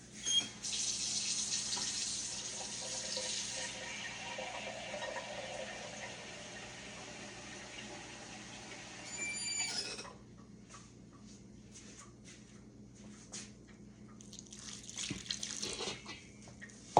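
Kitchen tap running water for chicken and dumpling dough, a steady hiss of flowing water for several seconds, then it shuts off and quiet clinks and splashes follow, with no speech.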